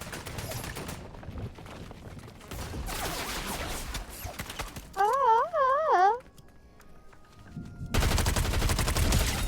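Gunfire in a video game: dense bursts of shots come in loud waves, with a wavering siren-like tone rising and falling in the middle and heavy firing again at the end. No one speaks.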